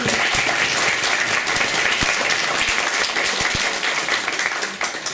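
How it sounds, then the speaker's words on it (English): Dense, loud audience applause at a community talent showcase event, sustained clapping for about five seconds before tapering slightly at the end. "Can we have another round of applause for both Rakia and"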